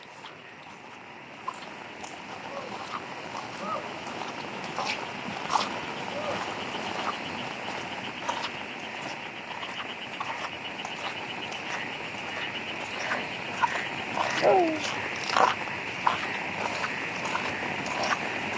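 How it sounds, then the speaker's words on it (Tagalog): Heavy rain pours in bad, flood-prone weather, a dense continuous hiss throughout, with a person briefly exclaiming over it. "Ang lakas na naman ang ulan."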